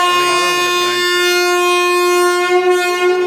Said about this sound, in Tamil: இந்த ரயில் புறப்பட்டு கொண்டிருக்கின்றது